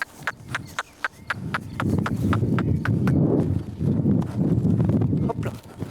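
Horse hooves clip-clop in a quick, steady rhythm during groundwork on foot, the crisp strikes fairly close, then blurred by broad rumbling noise in the second half.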